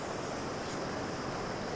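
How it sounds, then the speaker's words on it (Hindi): A river flows beside a mountain path to a Kali temple on the way to Tungnath, making a steady, dense rush of water that stays loud and unbroken throughout, with no voices. "और ये है हमारी नदी।"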